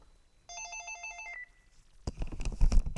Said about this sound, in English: Okay, I have to pick up the phone.